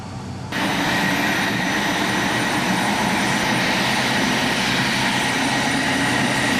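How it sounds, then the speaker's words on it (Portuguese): Jet engines on a Boeing 727-200 Advanced are starting up, a loud, steady roar with a high whine layered on top that begins abruptly after a brief quieter moment and then holds constant. "Prepara para a partida dos motores."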